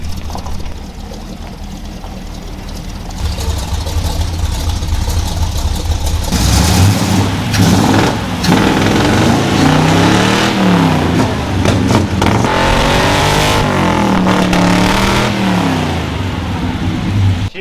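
Truck engine from an unfinished project build running poorly, starting as a rough idle before climbing into loud, uneven revs that surge and fall repeatedly, close and unaccompanied by talk.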